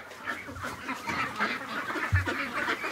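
Hungry ducks crowd a pen, a busy chorus of honks and quacks at close range with one louder call rising briefly near the end.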